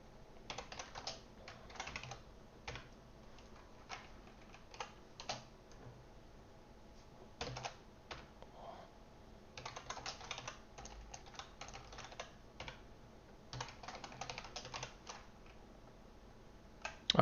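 Typing on a computer keyboard, steady bursts of close keystrokes with short pauses between runs, with no talking.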